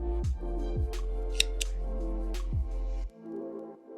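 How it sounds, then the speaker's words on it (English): Several crisp snips as scissors cut crochet yarn ends on a snowflake decoration. Four quick close cuts arrive at an uneven pace, with a soft rustle of handling between them. "Cut the ends nice and short."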